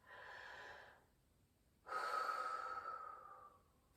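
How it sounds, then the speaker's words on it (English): Slow, close breathing during a relaxation exercise: a soft inhale, a pause, then a longer, louder airy exhale that fades out. "And breathe in. And exhale."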